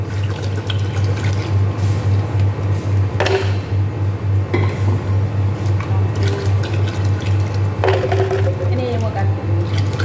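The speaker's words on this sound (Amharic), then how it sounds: "ከዛ ውሃ ጨምርበታለሁ በልኩ" Water being poured into a jar for home-brewed date and rice tej, a continuous splashing pour with a few clunks over a low steady hum.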